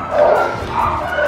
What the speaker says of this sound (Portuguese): Olha os cachorros latindo.